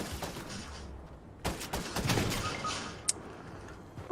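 Bursts of gunfire from a Fortnite match, with a few loud shots and a sharp crack near the end over a steady game background.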